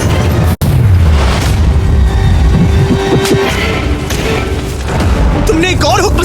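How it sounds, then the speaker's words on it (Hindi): A single sharp firecracker bang cracks out near the start, followed by rumbling booms and crackles. Excited voices talk loudly throughout. "पटाखे फूटने वाले हैं।"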